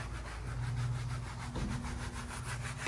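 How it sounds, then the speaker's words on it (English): Steady back-and-forth scrubbing while a motorhome is cleaned, a continuous rough rubbing texture with rhythmic strokes, fairly close and moderately loud throughout. "I hear the sounds of scrubbing."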